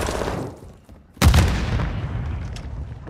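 A grenade detonates in Call of Duty with one sudden loud boom after a brief quiet lull, its rumble decaying over the next couple of seconds under ongoing battlefield ambience.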